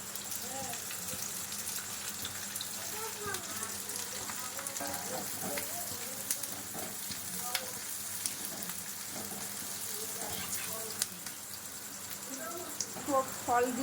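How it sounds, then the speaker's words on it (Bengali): Capsicum and onion frying together in a pan give off a steady, even sizzle, with a voice talking over the hiss throughout. "পেঁয়াজটা একটু ভাজা হয়ে গেছে, বা ক্যাপসিকামটা ভেজে নিচ্ছি।"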